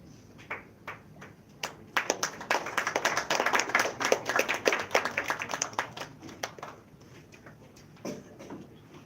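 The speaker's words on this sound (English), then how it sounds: "Have a round of applause, please." An audience at an award felicitation ceremony claps, with scattered hand claps building into dense, lively applause, then thinning out to a few last claps.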